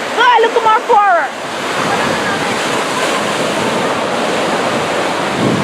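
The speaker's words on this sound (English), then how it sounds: "Scared of the waves." Ocean waves break steadily on a beach in Panama, a continuous loud roar of surf washing in, with a brief burst of voices and a child's cry at the start before the surf takes over.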